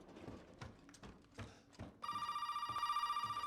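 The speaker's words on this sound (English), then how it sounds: "Telephone rings." A telephone rings in the horror video game Resident Evil 7, a steady electronic trill that cuts in partway through and continues loud after some quieter footsteps and room noise.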